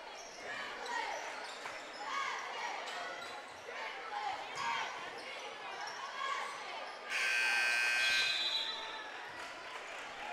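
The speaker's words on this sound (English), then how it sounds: "Every time that buzzer goes off and there's time still on the clock." A shot clock buzzer sounds at a high school basketball game, a loud steady tone lasting over a second amid the echoing gym hubbub of bouncing balls and crowd noise, with voices talking throughout.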